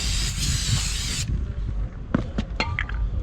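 Aerosol brake cleaner sprays in a loud, steady hiss that cuts off abruptly, followed by a few light metallic taps and clicks on car brake parts.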